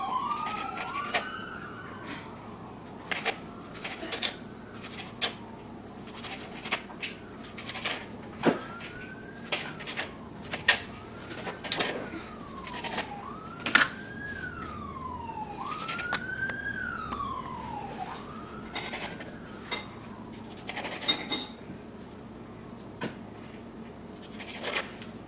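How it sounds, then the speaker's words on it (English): Distant ambulance and fire truck sirens wail in rising and falling sweeps through a city backdrop, faint and far off, with scattered clatter and knocks from a home kitchen close by. "And yes, that's ambulance and fire trucks that you guys hear."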